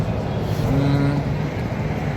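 A vehicle pulls right into a pavilion where people have gathered for a bhajan session, its engine a steady, fairly loud rumble with a low hum running through the whole stretch.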